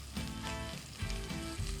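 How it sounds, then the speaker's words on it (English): Meat fries in its own rendered fat in a pan on a stovetop, giving a steady crackling sizzle throughout. Faint low tonal sounds run underneath the sizzle. "See how it's still sizzling? Yeah. It's actually, the fat is coming out of it."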